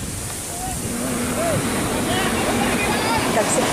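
Pacific Ocean waves wash steadily on a sandy shore, a continuous broad surf roar with wind, while someone speaks briefly over it.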